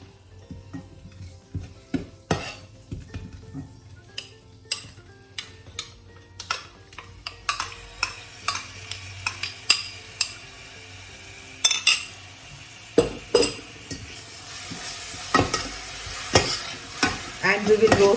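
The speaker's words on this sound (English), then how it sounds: "And we will roast it for good 2 to 3 minutes so that onion starts changing its color" Onion puree with ginger and garlic roasting in a pan for chana masala, stirred with a utensil: a steady series of close scraping taps against the pan over a low sizzle that grows brighter and busier toward the end.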